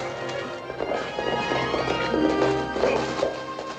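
Horses gallop in a Western film scene, with rapid, uneven hoofbeats and thuds close by, mixed with scuffling and clatter throughout.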